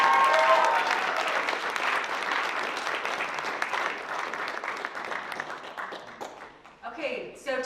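A panel-event audience gives loud, sustained applause as three young women activists are welcomed to the stage. The dense clapping gradually thins and fades, and a voice begins speaking near the end.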